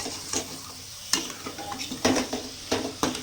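Chicken masala fries in a pan while a spoon stirs it, giving a sizzling hiss with repeated scraping strokes and knocks against the metal, close and fairly loud.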